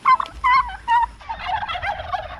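Three loud, warbling gobbles from turkeys close by, followed by a busier stretch of overlapping gobbling and bird chatter.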